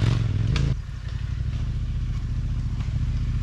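A motorcycle on Mitas E07 tyres climbs a steep, rocky trail in second gear, its engine a loud, steady drone with gravel clatter and a brief dip in the note near the start.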